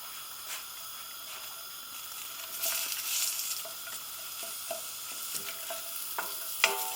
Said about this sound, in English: Pop in the red onions